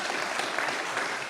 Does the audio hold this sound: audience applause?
yes